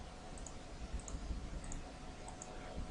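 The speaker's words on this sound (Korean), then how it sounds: "빈 공간에 클릭" A computer mouse clicks softly about four times at a steady pace while drafting in BIM structural modeling software, faint and close over a low room hum.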